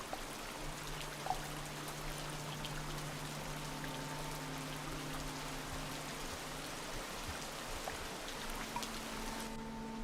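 Soft, steady rainfall in the video game Rain World, a faint even patter with low tonal game hums running beneath it and no voices.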